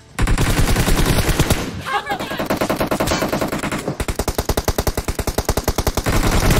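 Rapid automatic gunfire in the mobile shooter PUBG Mobile, a loud sustained burst, a brief lull, then another long, evenly paced string of shots.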